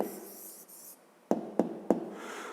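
A pen writes a maths answer on paper: soft scratching strokes for about a second, then a pause, then three sharp taps spaced roughly evenly against the desk, all close and fairly quiet.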